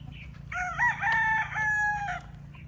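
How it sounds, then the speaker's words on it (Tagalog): Bullstag roosters crowing loudly and close, one drawn-out crow with overlapping calls over a steady background of farmyard clucking and low noise; a young gamefowl flock in molting season. "Ito yung mga bull stag natin dito"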